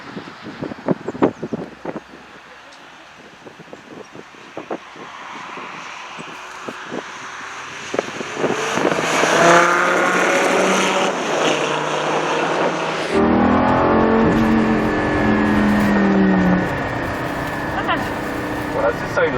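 A Lamborghini Gallardo LP-560 engine starts out under clicks and cabin noise, then swells into a loud rising roar as it revs and accelerates through the gears, and the tone shifts upward with each gear change.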